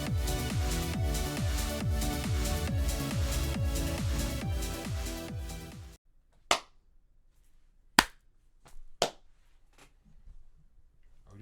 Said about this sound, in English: Are we doing a slow clap thing?